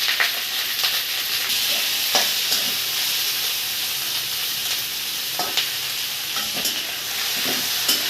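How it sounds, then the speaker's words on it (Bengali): Onions fry in a pan for Bengali mutton curry, a loud, steady sizzle close by, broken every second or so by the scrape of a stirring spoon, with no voices. "পেঁয়াজটা ভালো করে ভেজে নিই আমি, তারপরও মাংসটা ঢেলে দেবো"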